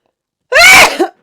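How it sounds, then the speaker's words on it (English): A single loud, close sneeze bursts out sharply with a brief trailing exhale, surrounded by silence. "I need to sneeze."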